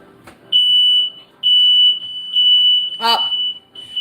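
A smoke alarm in a home kitchen sounds repeated high-pitched beeps, each held roughly a second with short pauses between, loud and near, with a brief clatter partway through.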